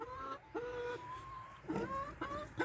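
A broody hen in a chicken coop gives repeated low clucks and drawn-out tonal calls, close and steady over a soft background hum.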